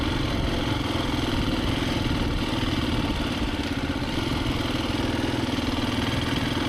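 Husqvarna FE350S motorcycle engine running steadily with a constant mid-pitched drone and mechanical clatter, close and loud throughout without noticeable revving.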